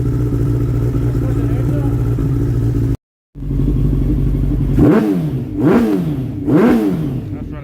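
A Suzuki Bandit 1200S MK1 motorcycle, fresh from a clutch upgrade with EBC uprated plates, idles with a deep steady rumble, cuts out briefly, then gets three quick throttle blips that rise and fall close by.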